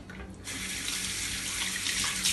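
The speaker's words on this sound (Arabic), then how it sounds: "نغسل يديا" A kitchen water tap runs for washing hands during fish cooking, a steady hiss of flowing water that starts abruptly and continues close and clear with no talk.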